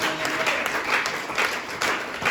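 A church congregation at a worship service breaks into steady applause, a dense wash of many hands clapping throughout.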